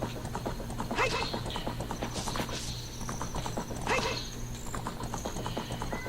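Horse hooves clip-clop in a steady walking rhythm in The Legend of Zelda: Ocarina of Time, near and moderately loud, with a couple of brief whinnies over a looping game soundtrack while a person talks throughout.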